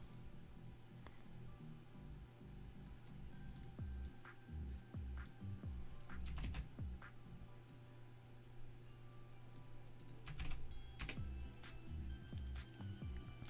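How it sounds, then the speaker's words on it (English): Typing on a computer keyboard, sparse soft clicks and taps at an irregular pace over a low steady hum, with no talking. "I'm kind of thinking to myself while typing up the list"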